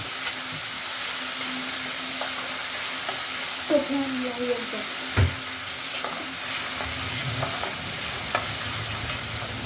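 Spices with asafoetida sauté in a pan over medium gas for a chickpea-flour patty snack, giving a low continuous sizzle. A few clinks of a utensil and a short voice fragment sit over it.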